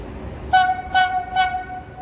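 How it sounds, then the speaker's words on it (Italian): Three short tonal chimes ring out in a rising-falling pattern over a low rumble of station ambience at Venezia Mestre, a platform announcement signal for a train arriving. "Treno in arrivo al binario 2."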